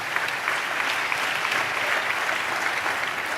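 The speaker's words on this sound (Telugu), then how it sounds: "చప్పట్లు కొడితే యేసయ్యకి స్తోత్రాలు చెప్పాం" A church congregation at a sermon applauding together, a dense, steady wash of clapping from many hands filling the room at fairly loud level without a break.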